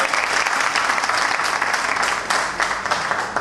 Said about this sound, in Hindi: थैंक यू दोस्तों, इनके लिए जोरदार क्लैपिंग हो जाए।